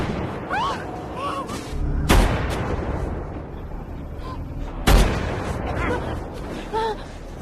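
Sniper rifle shots from the action film Shooter crack out twice, sharp and loud, with a dense, rumbling action-movie mix around them and brief voices in between.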